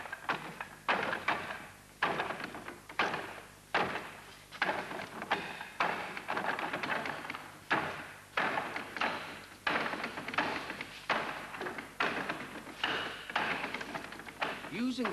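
Wing Chun practitioner striking a wooden dummy with palm, elbow and knee techniques: a fast, steady series of sharp wooden knocks and thuds, one after another at close range, filling the whole stretch without pause.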